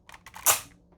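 A Generation 1 Galvatron toy's legs extend with a handful of sharp ratcheting clicks from the joints, spaced irregularly across about a second, the loudest snap near the middle, close and alone.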